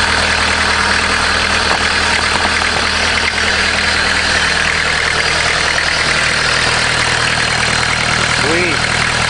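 A Volkswagen diesel engine, newly installed in a caravan, idles with a steady, unbroken mid-to-low hum and faint vibration that holds evenly from start to finish.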